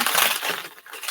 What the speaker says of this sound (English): I'm going to use scissors because this sticky tape is really sticky